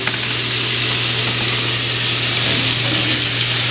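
Bread sizzling in melted butter on a hot flat-top griddle, a loud continuous frying hiss with a steady low hum underneath, unbroken for the whole stretch.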